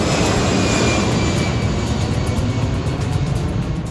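An airplane flying low overhead on approach near a Washington DC airport, a loud, sustained engine roar that stays strong throughout with no speech.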